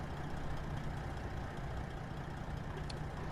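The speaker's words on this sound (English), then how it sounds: "Let me know if the truck is a little too loud" A custom Peterbilt 379 truck engine in American Truck Simulator drones steadily at a low, even pitch throughout, loud and close, with no talking over it.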